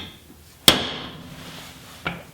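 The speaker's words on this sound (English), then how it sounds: "then we're going to take a punch and just punch it" A center punch is struck once on a JCR Crusader slider bracket to mark a drill hole, giving a sharp metallic tap with a short ring, followed by a lighter knock near the end.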